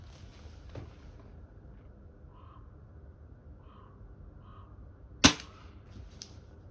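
A single sharp gunshot fired at a chicken-shaped target cracks out over quiet outdoor ambience, followed by a faint distant ring.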